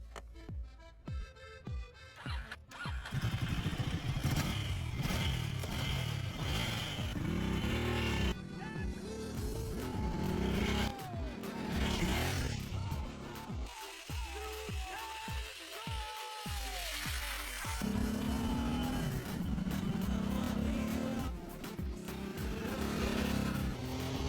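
A Ducati motorcycle out on a test ride runs continuously with a steady engine drone that rises and falls as it accelerates and shifts, close and fairly loud, with wind noise.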